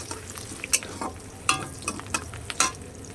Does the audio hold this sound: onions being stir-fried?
yes